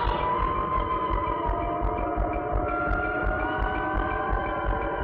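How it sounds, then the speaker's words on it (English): Iconic wailing siren from the 1979 Alien film trailer, a sustained droning tone that slowly rises in pitch over a low rumbling pulse, steady and unbroken throughout. "you get the iconic siren sound."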